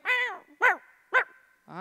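A voice imitates a little dog's barking: three short, sharp yips with a longer whining bark first and a fourth starting at the end, close and fairly loud, alone without other talk.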